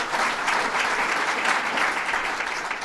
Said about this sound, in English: Let's give him a round of applause, Bill Magnarelli.